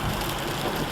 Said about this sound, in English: another adventure in the rain, driving home